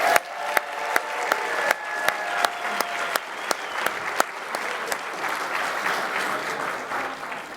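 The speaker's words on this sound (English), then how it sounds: "How about one more round of applause for everyone?" A round of applause from the audience at a Justice Ambassadors graduation ceremony, with crisp, steady clapping carrying on throughout and sharp individual claps standing out over the crowd's sustained patter.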